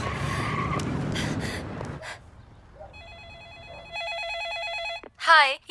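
A telephone rings in a Hindi-dubbed film scene, a clear electronic ringing tone that starts after a stretch of screeching tyres and commotion, followed by a short high whistle-like sound.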